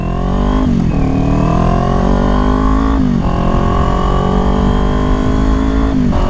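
A 2022 Kawasaki Ninja 400 motorcycle is ridden on the freeway, its engine droning loud and close, with pitch climbing and briefly dropping at a few gear changes.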